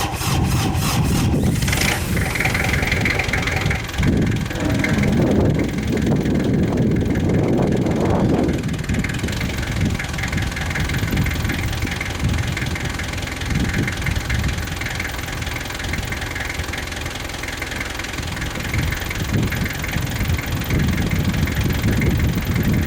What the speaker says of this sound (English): the tractor is bogging down when it hits the rock bottom